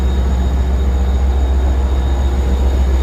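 Grand Central M9 commuter train at Babylon station, a loud, steady rumble close by with heavy low-end roar and no pause throughout.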